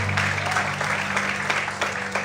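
A church congregation applauds during a Portuguese-language sermon, a short burst of dense, steady clapping over a low hum of background tones.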